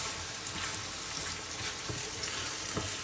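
Tomato sauce with concentrated tomato paste is stirred in a hot pan for lasagne, giving a steady close sizzle with soft scraping and a few spoon knocks throughout.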